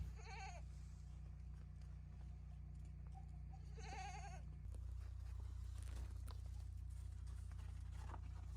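Goats at morning feeding time on a snowy homestead bleat in a few faint, wavering calls, heard at a distance over a steady low hum and background noise.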